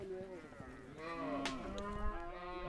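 Cattle belonging to Murle tribal herders in a remote area of Sudan low and moo repeatedly, several overlapping calls from nearby animals rising and falling over about three seconds.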